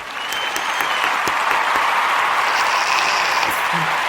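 An audience claps at a talk show taping, a dense, loud round of applause that holds steady throughout, with a few sharper claps standing out from the wash.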